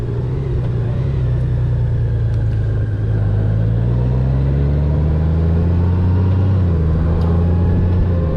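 A motorcycle rides along a road, its engine giving a steady, close, continuous drone that rises slightly in pitch midway, with no talking.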